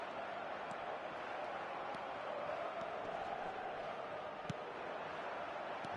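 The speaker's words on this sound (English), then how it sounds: "Crowd appreciates good football all round there." Soccer video game stadium crowd cheering and murmuring steadily throughout, a dense continuous roar with a few faint sharp accents, no clear talk.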